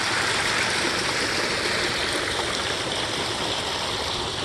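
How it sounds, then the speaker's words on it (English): A small waterfall splashes and rushes steadily, a continuous bright wash of falling water heard up close with no voices. "Nice little windy waterfall."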